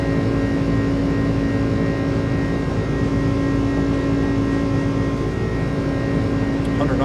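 Steady roar of the iniBuilds A300 jet engines at takeoff power in Microsoft Flight Simulator, a constant loud drone with a tonal whine sustained without change.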